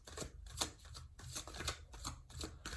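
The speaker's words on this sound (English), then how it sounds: "as you can hear, I'm shuffling the cards" A deck of tarot cards is shuffled close up in quick riffling bursts, with soft repeated rustles and snaps in a steady rhythm and no talk.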